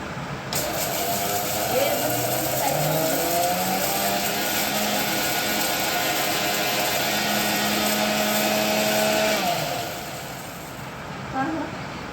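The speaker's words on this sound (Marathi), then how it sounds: "शेंगदाणे वाटून घेते बडशेप वाटते आधी बडशेप बडशेप थोडं भाजून वाटता येते" A kitchen mixer grinder runs loudly and steadily while grinding peanuts and fennel seeds. Its whine holds for about nine seconds, then cuts off and the motor winds down.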